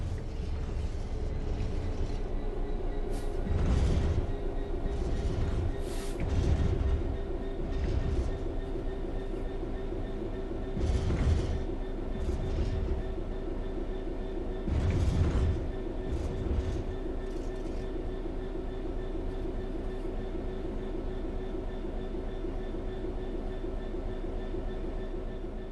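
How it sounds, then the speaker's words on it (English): A train in the video game Train Sim World 3 coasts steadily on level track with a constant low rumble and hum, punctuated by periodic clunks of wheels over track joints, no voices. "The train will then coast on level ground, and the train will only slow down very gradually."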